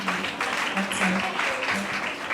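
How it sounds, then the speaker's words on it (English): A crowd claps steadily, a dense patter of many hands filling a room throughout, fairly loud and continuous. "let's give Prof a round of applause"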